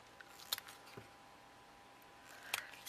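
Scissors snip the corners off a square paper tissue tile, giving a few short, crisp cuts spaced apart in a quiet room, with the last snip landing right at the end.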